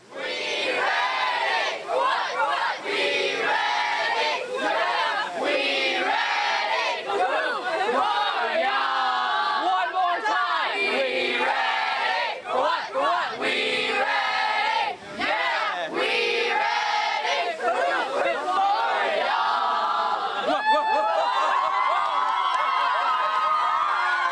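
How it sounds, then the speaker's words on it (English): The Suncoast High School swim team shouts its cheer in unison, a loud continuous group chant with rhythmic calls and whoops that goes on for over twenty seconds. "They even have a pretty cool cheer."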